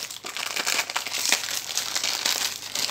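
Plastic bag crinkles and rustles as biscuits are packed into it, a close, loud, continuous crackling with quick irregular bursts and no talk.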